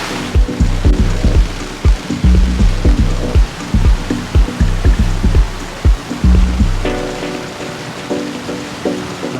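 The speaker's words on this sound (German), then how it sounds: "Das peitscht die Wellen ein bisschen runter hier, der Regen." Heavy rain from a squall on the Atlantic pours down with rushing water and choppy waves, gusts and thumps breaking through the steady wash of noise.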